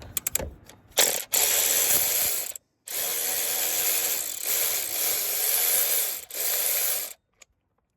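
Ratchet with a 14 mm socket loosening bolts during a timing belt job on an EJ 2.5L SOHC engine, heard as several close, rapid clicking bursts separated by short pauses.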